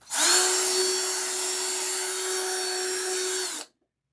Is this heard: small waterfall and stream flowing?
no